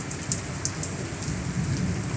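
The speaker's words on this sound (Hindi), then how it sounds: "बादल भी गरज रही थी, बारिश शुरू हो गई" Heavy rain pours steadily with deep rumbling thunder underneath, a dense continuous downpour close by with no voices.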